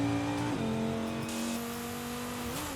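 Steady engine drone of a car in Forza Horizon 5, a sustained tonal hum with one shift in pitch around the first half-second, heard continuously and alone.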